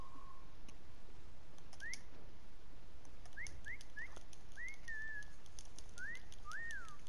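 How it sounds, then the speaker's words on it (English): A player character in a Fortnite Battle Royale prop hunt match whistles a tune in short, repeated rising chirps, faint against quiet game ambience with a few soft clicks. "I'm literally whistling."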